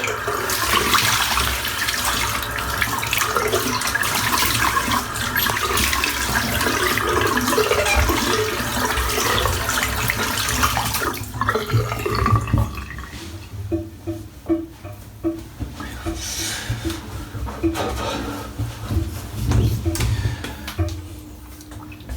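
Water runs from a tap or shower while someone rinses off after shaving with goat's milk and lanolin soap, a loud steady spray for about eleven seconds, then a quieter, uneven splashing.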